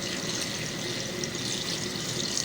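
Water pours steadily into a cooking pot of mutton paya with onions, spices and ginger garlic paste, a dense continuous splashing rush heard close and alone.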